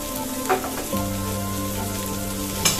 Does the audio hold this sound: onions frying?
yes